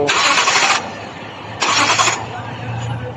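The starter motor of a 2009 Toyota Sequoia cranks in two short whirring bursts under a steady low engine-bay hum.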